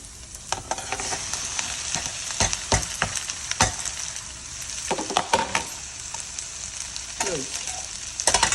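Okra sizzles and fries in a pan with golden brown onions, a steady close crackle broken by scattered sharp stirring clicks and scrapes, with no talk.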